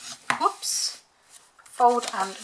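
Card stock being folded and its score lines burnished while making a honeybee hive gift box: a crisp crease snap and soft papery rubbing swishes, close and fairly quiet, with someone speaking briefly afterward.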